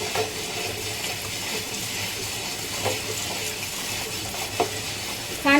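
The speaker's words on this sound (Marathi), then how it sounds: "मी जेवणासाठी आता फिश फ्राय बनवते." Fish frying in a home kitchen pan for a Sunday meal, a steady broad sizzle running throughout at moderate level, with a few small clinks and scrapes near the end.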